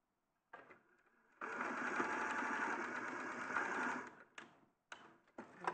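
A sewing machine stitches a short seam past a fabric dart, running in a steady whirring burst for a few seconds, then a couple of brief stop-start bursts for backstitching, close and clear.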